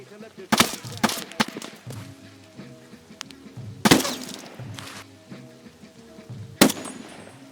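Unsuppressed M14 rifle shots in Escape from Tarkov ring out as three loud, sharp cracks spaced a few seconds apart, each with a brief echoing tail over quieter ambient game sound.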